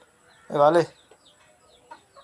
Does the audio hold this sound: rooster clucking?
yes